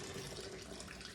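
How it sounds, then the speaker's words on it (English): Hot tea is poured over sugar into a pitcher for southern sweet tea, making a short, soft, steady stream of liquid splashing nearby. "Pour your hot tea over the sugar."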